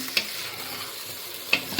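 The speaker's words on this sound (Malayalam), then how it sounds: "അരി ചെറുതായിട്ടൊന്ന് വറുക്കണം" Rice tossed with masala and ghee in a pressure cooker for paneer biryani, with a faint steady sizzle under a few sharp spoon-scraping clicks of stirring close by.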